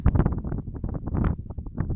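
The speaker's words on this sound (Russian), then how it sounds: "Ветер, конечно, сильный." Strong gusting wind buffets the microphone outdoors during a pike fishing trip, a continuous low rumbling roar that swells and dips in irregular bursts, loud and close with no other clear sounds.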